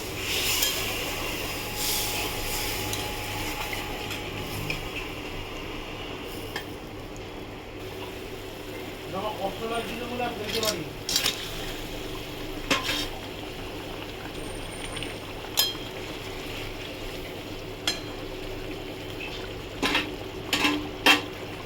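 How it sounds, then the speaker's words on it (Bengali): Water pours and trickles into a frying pan of katla fish curry, a steady close liquid wash with bubbling sizzle underneath that runs throughout, broken by a few scattered clinks near the end. "জল ঢেলে দিলাম বন্ধু।"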